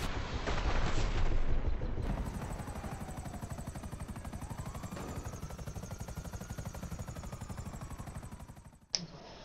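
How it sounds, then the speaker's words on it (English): Rapid, loud chopping rotor thump of a helicopter in GTA Online, steady and close with a rising whine, continuous for most of the stretch before cutting off abruptly near the end. "definitely get this helicopter. It's like one of the best ones in the game"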